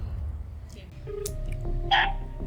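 A phone dials a call, giving a few short, bright keypad beeps, the clearest near the end, over low room noise and faint murmured voices.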